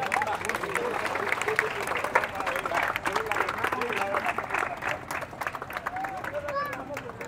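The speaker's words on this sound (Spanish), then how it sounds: "Fuerte el aplauso" A crowd at an outdoor independence torch ceremony, where a mayor lights the liberty cauldron before a Statue of Liberty, claps steadily and loudly, with voices and crowd babble mixed in beneath.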